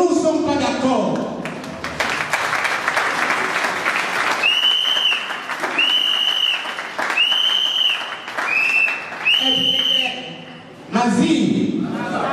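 A political rally crowd applauds and cheers in loud sustained bursts, with rhythmic clapping, shouts and whistles rising and falling across several waves, and a speaker's voice briefly heard at the start and end.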